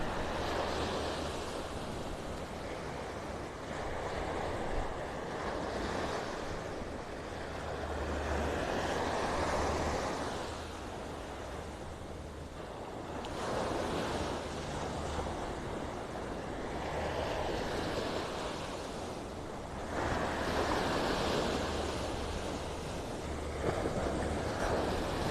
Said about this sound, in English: Stop and listen to the waves for a minute.